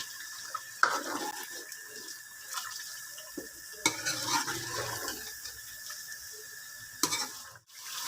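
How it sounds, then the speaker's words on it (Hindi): Yogurt and onion paste for chicken korma frying in a pot, stirred in a few scraping strokes over a soft, low sizzle, close and quiet, with no voices. "दही और प्याज का पेस्ट ऐड करने के बाद इसकी अच्छे से भुनाई करेंगे।"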